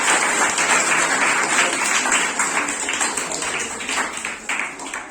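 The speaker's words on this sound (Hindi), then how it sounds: "तालियों के साथ उनका स्वागत कीजिए।" An audience claps to welcome a speaker at a student performance event, a loud, dense burst of applause that holds steady and then eases slightly toward the end.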